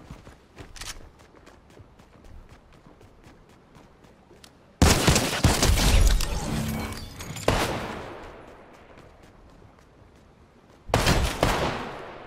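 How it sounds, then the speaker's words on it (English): A grenade launcher fires in a video game with loud, heavy blasts that break over a light ticking rhythm. Two big booms arrive several seconds apart, each decaying slowly, with no voices. "Grenade launcher."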